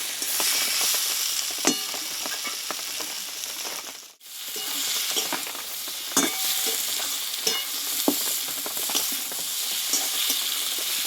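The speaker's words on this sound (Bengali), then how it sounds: "সরষে বাটা দিয়ে আমি ভালোভাবে পটলটা নাড়াচাড়া করে নিয়েছি" Pointed gourd being stir-fried with mustard paste, a continuous loud sizzle with irregular scraping strokes from a spatula, briefly cut to near silence partway through, close and without talking.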